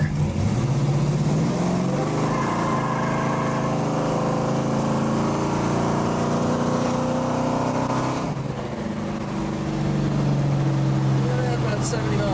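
A 1968 Plymouth Barracuda accelerates from a roll, its engine note rising steadily and loud and close for most of the run, then dipping briefly before pulling again, with a voice talking over it.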